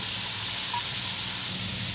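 Frozen mixed vegetables steaming and sizzling in a hot pan, a steady, loud, even hiss that holds without a break for the whole moment.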